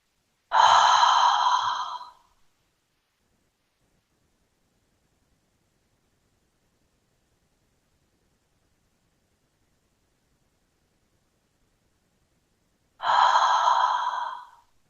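Two slow, audible exhales during a chair yoga session, each a soft breathy sigh lasting about a second and a half, separated by a long stretch of silence.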